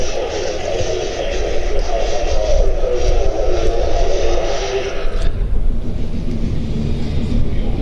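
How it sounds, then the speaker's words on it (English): A Czech Air Force Saab JAS-39C Gripen jet fighter from the 211th Tactical Squadron rolls along the runway at an air show, making a loud, steady engine roar that eases slightly partway through. "Captain Jan Ratz in his Saab JAS-39C Gripen"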